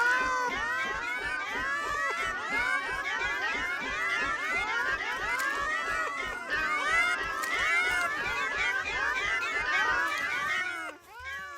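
A cat meows repeatedly and loudly in a long, continuous run of overlapping calls close to the microphone, with no break until it stops abruptly near the end.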